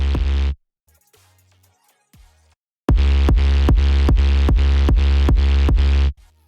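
A sidechained synth bass with automated volume, made in FL Studio for melodic dubstep, opens with a short loud burst. After quiet low blips it pulses in rhythmic swells, each dipping and rising in a steady pumping pattern before stopping.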